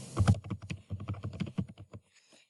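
Quick, close typing on a computer keyboard while entering search keywords, a dense run of crisp key clicks lasting about two seconds and then stopping, with no talk.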